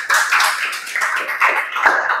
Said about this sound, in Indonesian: Oke, beri tepuk tangan untuk kita semua.